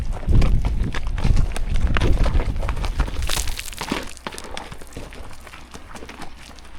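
Horses walking along a trail in pitch-black darkness, hooves clopping and crunching in an uneven rhythm up close, with rustling and gear noises and no talk.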